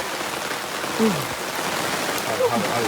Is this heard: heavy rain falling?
yes